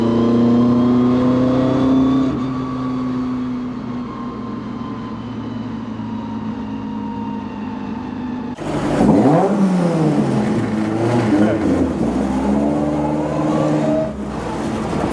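A rear-wheel-drive Mk1 Ford Fiesta with a Zetec engine holds a loud, steady rev, then drops and climbs again in harsh, close surges with a raspy exhaust note, and no talking.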